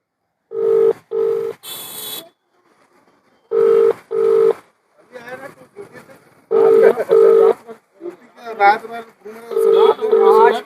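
Phone call placed to an electricity department official in Bhilai: repeated pairs of steady ringback tones with silent gaps, followed by a recorded announcement-like voice on the line.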